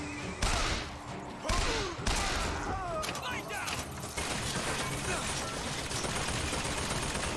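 Bursts of gunfire in Bioshock Infinite, several sharp shots early, then a dense crackle of fire and clatter continuing under a talking voice.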